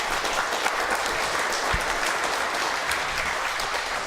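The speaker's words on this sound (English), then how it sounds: "Let's hear it for Brad Gelber" A studio audience applauds at a television talk show, giving a steady, dense burst of clapping that holds at an even level throughout, with no talking over it.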